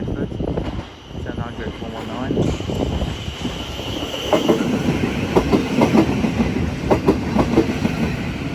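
A train rumbling through East Croydon station on the Brighton Main Line, with steady heavy rolling noise and rhythmic clickety-clack of wheels over rail joints growing more distinct, plus a faint high whine, with no talking.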